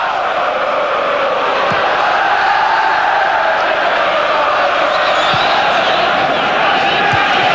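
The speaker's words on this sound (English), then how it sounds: "Peacock getting plenty of good reaction from the crowd." Football crowd at a Newcastle United versus Manchester United match in 1995, a steady loud roar of many voices filling the stadium throughout, with a commentator talking over it.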